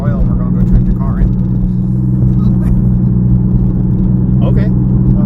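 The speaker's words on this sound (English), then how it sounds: "this car is very loud when you're driving" Loud car engine while driving, with a car that has metal in its oil, giving a constant low droning rumble with steady harmonic hum that dominates the whole stretch, and people talking over it.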